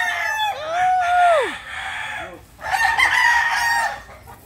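A Blues gamefowl rooster crows close by, one long drawn-out call, followed by a second throaty crow and clucking, with people talking softly around it.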